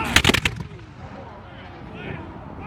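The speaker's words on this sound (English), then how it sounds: "So the front rank gave fire" A front-rank musket volley goes off in a battle tactics demonstration, a quick burst of several sharp, ragged cracks in the first half-second, then fading rumble and faint crowd noise.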